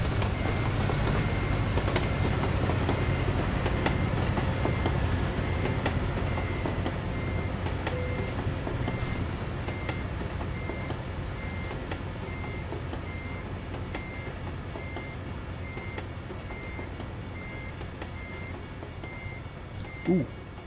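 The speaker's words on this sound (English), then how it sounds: "I hear the train coming." A train rumbles steadily past in American Truck Simulator, a dense continuous rolling roar with faint clatter that slowly fades over about twenty seconds.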